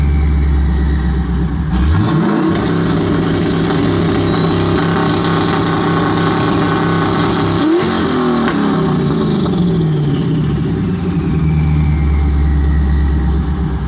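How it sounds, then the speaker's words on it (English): A turbocharged Chevrolet Silverado truck engine roars up hard on a two-step launch limiter, climbing from a low rumble to a sustained loud rev, dipping and rising again in a second surge, close and very loud with no speech. "So let's go ahead, fire it up, and try out the two-step button."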